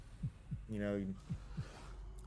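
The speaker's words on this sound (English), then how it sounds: "Heartbeat in your ears" A heartbeat sound effect plays during a tabletop roleplaying session of the Alien game, a few low thumps spaced about a second apart with a brief tonal swell between them, faint under a murky background.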